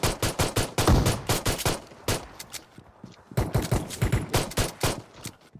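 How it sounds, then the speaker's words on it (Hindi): Rapid volley of gunshots in the PUBG Mobile video game, repeated sharp reports in two quick bursts with a short lull between, loud and close. "यहाँ पर कोई शॉटगन भी चला रहा है"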